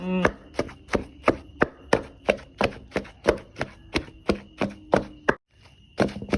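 A pestle pounds spice paste for a Thai fish curry in a mortar, about twenty steady, heavy thumps at a regular rhythm, close and clear, with a short pause before the pounding resumes.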